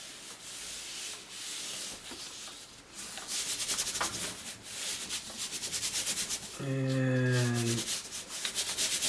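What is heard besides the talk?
rubbing paper by hand to pull a monoprint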